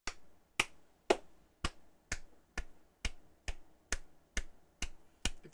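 Hand claps, about a dozen sharp evenly spaced strikes at a steady moderate pace, close and fairly quiet, with nothing else heard.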